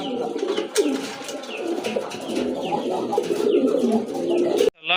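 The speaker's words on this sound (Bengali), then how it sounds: "আরেক জোড়া কবুতর, ব্লু শার্টিন কবুতর।" Blue satin pigeons coo close by, soft repeated throaty calls rising and falling over a constant low murmur of birds, with a few sharper flutters and clicks.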